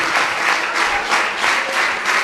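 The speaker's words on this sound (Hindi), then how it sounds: "इतनी सी तालियां नहीं लगती भैया नानू के लिए" Loud, close applause from a workshop audience at a Practical Dharma retreat on positive parenting, clapping in for Nanu as a dense, steady clatter that swells and dips in gentle waves.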